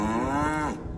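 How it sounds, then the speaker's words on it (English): A single cow lets out a long, close, resonant moo inside a farm shed, a steady tonal call that fades out near the end. "Here are the cows in the sheds"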